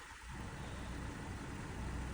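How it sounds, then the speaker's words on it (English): Cadillac SRX, bought flooded, idling quietly: a faint, steady low engine hum with broadband hiss, continuous and even throughout, no voices. "I cannot believe how quiet this engine is."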